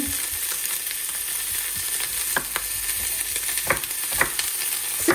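Pork rib meat sizzles steadily in its own fat in a hot pan, a constant hiss broken by scattered pops and light crackles, close up with no talking.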